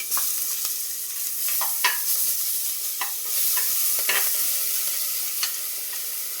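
A crushed spice mix hits hot oil with curry leaves for a Kerala-style chicken curry, hissing loudly and steadily while a spoon scrapes and stirs in scattered strokes, close up and without voices.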